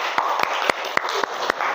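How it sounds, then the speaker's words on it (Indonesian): Classroom applause, a loose rhythm of sharp individual claps spaced a few tenths of a second apart, fairly close and moderately loud. "Kita tepuk tangan untuk kita semua ya."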